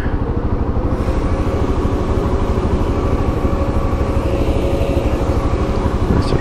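A road sweeper drives past on a London street, its steady engine drone loud and close throughout, heard from a motorcycle commute.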